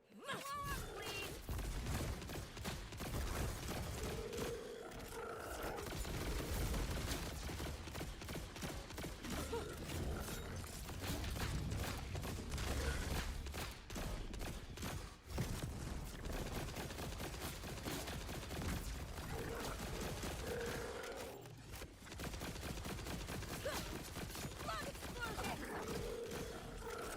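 Dense, continuous gunfire from Borderlands 4 rattles through busy game effects and music, with sustained bursts and a brief lull before firing resumes, under ongoing player talk.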